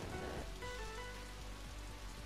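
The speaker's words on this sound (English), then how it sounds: "look at all this rain" Rain falls in the video game Pokémon Conquest as a constant soft patter, with gentle tonal game music running underneath.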